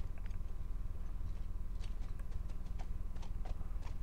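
Horse hooves clip-clop at a steady walking rhythm in The Last of Us, a regular series of close hoof strikes over a low ambient rumble, with no talk.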